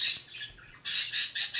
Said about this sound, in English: lovebirds are noisy but not loud